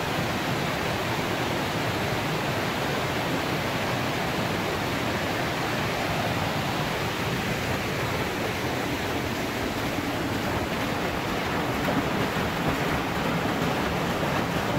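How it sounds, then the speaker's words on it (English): Water pours over a mill weir in the Hebden Valley, a constant, broad rushing roar that holds steady and fairly loud throughout with no voices. "So yeah, that's the weir."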